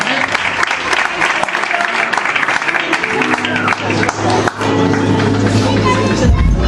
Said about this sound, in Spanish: Un fuerte aplauso para la gloria del Señor.